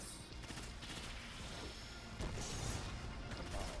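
Sustained bursts of automatic gunfire and clanking impacts in the Destiny 2 shooter, a fairly quiet, continuous volley that swells louder toward the end.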